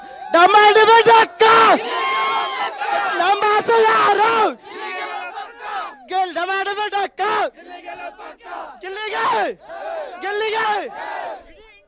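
A large crowd of fans gathered outside a studio at the Bigg Boss Kannada season finale, loud rhythmic chanting and shouting in unison in repeated bursts, close and energetic, filling the whole stretch.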